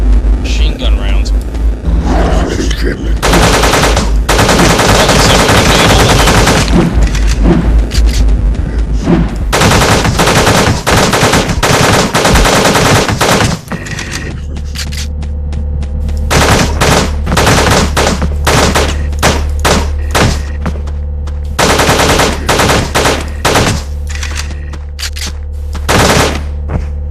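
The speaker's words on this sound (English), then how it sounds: "I have a load of machine gun rounds." Machine gun fire in the Teleglitch video game, dense bursts of rapid shots in loud rattling volleys with short gaps, later over a deep rumbling drone, then choppier scattered bursts toward the end; a voice speaks now and then underneath.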